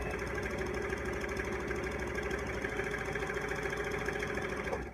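A Janome 423 S domestic sewing machine running steadily while sewing a zigzag stitch, giving a continuous close motor whir with a fast mechanical rattle throughout.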